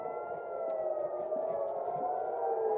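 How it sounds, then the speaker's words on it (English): Civil defense sirens wail during an air-raid alert to seek shelter, a steady sustained tone that sweeps slowly in pitch and runs loud and unbroken throughout, with no voices over it. "we're having trouble hearing because we have the sirens going on here as we are going to seek shelter"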